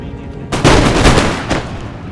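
Musket volleys from an Empire: Total War online battle crack out in a dense, rolling burst of shots for about a second and a half, loud and close, with scattered reports trailing off afterward.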